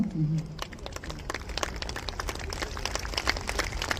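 Members at the Gujarat Chamber of Commerce annual meeting at Karnavati Club, Ahmedabad, applaud in a hall, a steady crowd clapping that continues throughout at moderate level, with a voice at the very start.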